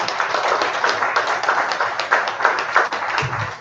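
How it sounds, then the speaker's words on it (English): An audience claps after a speech at a Rotary District 9112 event on basic education and literacy, held with the state government: brisk, dense, close applause that stays strong and even for a few seconds. "Let us continue to give him a round of applause."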